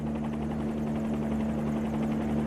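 A Bell 47 helicopter taxiing in a flight simulator game, its steady droning rotor and engine hum loud and unbroken with a constant low tonal buzz.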